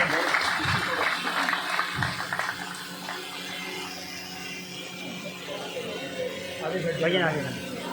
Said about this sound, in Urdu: تو آپ کی ایک بار پھر مضبوط تالیاں ماجی کے لیے